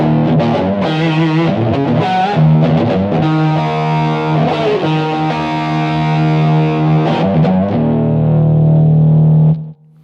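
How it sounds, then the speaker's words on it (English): Distorted electric guitar through a BOSS GT-1 in a classic rock tone with a touch of room reverb, loud bluesy licks and bends played alone, ending on a sustained low note that rings out and cuts off. "just a little bit of reverb to simulate the room sound that was actually recorded in"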